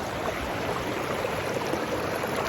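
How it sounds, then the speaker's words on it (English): River rapids with water rushing steadily over rocks, a constant close broadband roar that holds at an even level throughout, with no voices. "So I'm saying I can dip my feet in the rapids."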